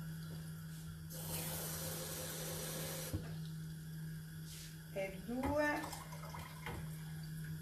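Water poured into a pot holding sugar to make syrup for Greek kataifi, a soft hiss of flowing liquid followed by a few clinks and gurgles, with a brief voice nearby.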